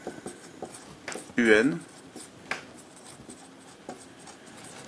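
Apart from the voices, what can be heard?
writing on the board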